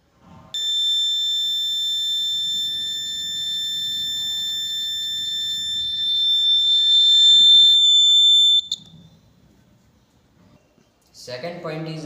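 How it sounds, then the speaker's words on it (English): The buzzer of a rain detection sensor project gives a loud, steady electronic tone for about eight seconds, then cuts off, and a voice follows briefly near the end. "As soon as rain begin, a buzzer is activated and nearby people."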